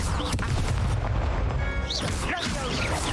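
An Expulso blast spell in Hogwarts Legacy, fought on hard mode: a heavy booming burst amid a busy clash of spell impacts and crashes, loud and close, with voices in the mix.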